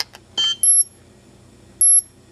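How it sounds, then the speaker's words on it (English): Two short, high-pitched electronic beeps about a second apart, preceded by a soft click, from an Elite-tek ET-9888 dog training collar receiver confirming pairing, in an otherwise quiet room. "with a beep and a flash"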